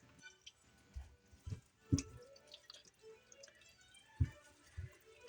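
Water drips from a raw turkey being drained the day before Christmas, a handful of soft, irregular plops and drips close by in a quiet kitchen.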